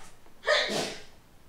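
A single person sneezes once indoors, a short sharp burst standing out over a quiet background.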